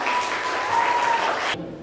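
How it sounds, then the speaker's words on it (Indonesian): Brief, dense applause from an audience welcoming a university student speaker at a talk event, cutting off abruptly near the end. "Tepuk tangannya dong."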